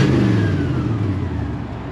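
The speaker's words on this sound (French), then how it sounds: "L'échappement libre, ça ne convient pas du tout à une voiture comme ça" A 1957 Pontiac Star Chief engine running with an open exhaust, a loud, rough, close rumble that swells briefly as it revs.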